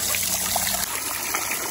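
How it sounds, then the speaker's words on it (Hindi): Water is poured out for chickens at a zoo, a steady close trickling and splashing stream lasting under two seconds, with no voices. "ऐसा करता हूँ पानी डाल देता हूँ"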